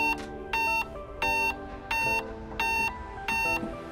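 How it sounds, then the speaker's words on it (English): Six short electronic beeps repeat at a steady pace, each bright and tonal, over a faint low hum, from a motorized latch retraction kit being programmed. "apply power for a series of 6 beeps"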